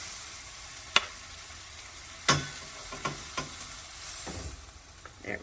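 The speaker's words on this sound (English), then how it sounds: "they're just kind of cooked on the exterior to get some color and to get some fond on the pan" Chicken sears in a pan for a creamy chipotle chicken dish, giving a steady soft sizzle with sharp clicks and scrapes of a utensil now and then, close and without speech.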